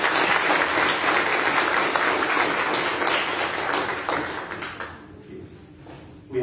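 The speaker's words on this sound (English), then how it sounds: "Please give them a round of applause." Congregation at a Holy Eucharist service in church applauds steadily and loudly for several seconds, the dense clapping thinning and fading out toward the end.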